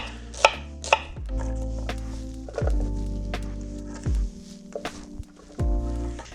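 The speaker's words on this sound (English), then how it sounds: "you want to get them a little bit cut up before they go in the blender" A knife chops shallots on a cutting board while a turkey seasoning rub is prepared. Sharp close thunks come first singly, then in quick rapid bursts, with no talking.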